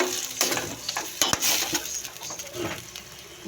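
Corned beef and onion sauté quietly in a pan with a soft sizzle, broken by scattered scrapes and clinks of a spatula stirring against the metal.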